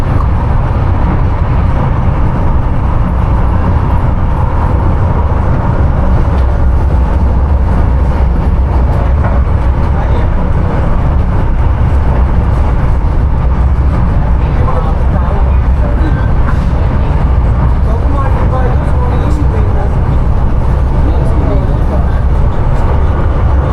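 LRT light rail train running with a continuous loud, dense rumble and rattle, steady from start to finish, with indistinct voices faintly mixed in.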